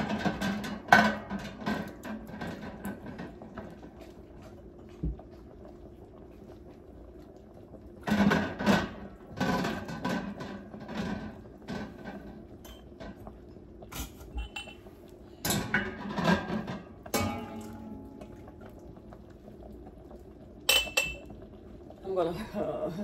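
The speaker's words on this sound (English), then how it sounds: "I'm gonna get these jars out of here" Glass jars lifted out of a pot during strawberry jam canning clink and knock in scattered bursts, with creaks and clatter between quieter stretches; a voice talks over parts of it.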